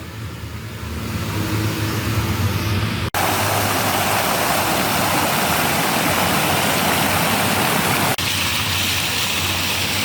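A small park fountain splashes continuously, a dense, even rush of falling water that stays loud and steady throughout, with no voices.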